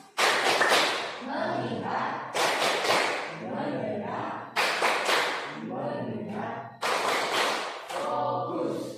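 A class performs a rhythmic focus clap, groups of loud, sharp claps landing in regular bursts between chanted words from many young voices, repeated several times close by.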